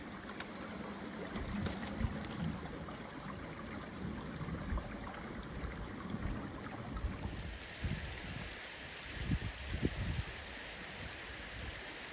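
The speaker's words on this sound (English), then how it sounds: "no sounds apart from the water and the bird song." Ewden Beck, a stream flowing outdoors, gives a steady close rush and babble of water, with a few louder splashy surges near the end.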